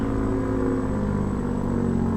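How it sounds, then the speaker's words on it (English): Cummins ISX truck engine holding a steady, loud, droning rumble with a constant tonal hum under engine braking in American Truck Simulator, close and unbroken with no talk. "Bit of engine braking here."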